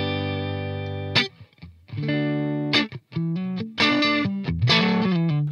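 Heavily distorted electric guitar played through a V30 speaker cabinet impulse response captured with an M80 dynamic microphone; loud sustained power chords and short riffs with brief gaps, no voice.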